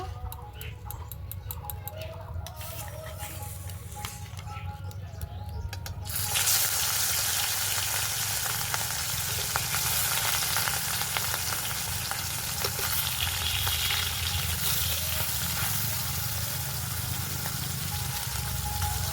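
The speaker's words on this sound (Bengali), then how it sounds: "তো তেলটা গরম হয়ে গেছে, এবার মাছগুলো ভেজে নেব" Rohu fish pieces, fried alongside brinjal, drop into hot oil and set off a loud, steady sizzle that fills the rest of the clip, with faint clinks before and a little background voice.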